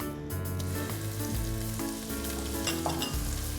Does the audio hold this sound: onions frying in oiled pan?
yes